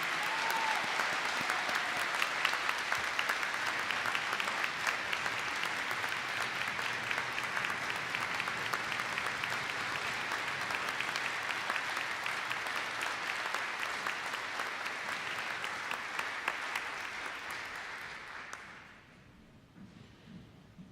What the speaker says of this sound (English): Everyone, please give a round of applause to Second Lieutenant Dylan Reiners.